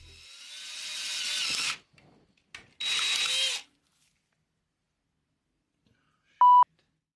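A power drill whirs in two short, close bursts, drilling a hole in a plastic model, followed by quiet and then a single sharp electronic beep.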